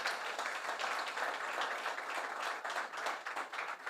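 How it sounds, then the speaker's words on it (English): Conference audience at the Jamaica Diaspora Conference 2022 applauding for Jackie Wright, sustained clapping from a crowd, moderately faint and steady for a few seconds. "stand up and give her a big round of applause"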